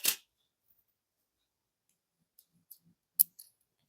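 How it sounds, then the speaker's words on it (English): Small scissors snip through beading thread on a pearl and bicone bracelet: a sharp click at the start, then a few faint, sparse snips and taps after a long quiet stretch. "now we can cut our thread off."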